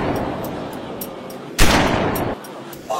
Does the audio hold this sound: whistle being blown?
no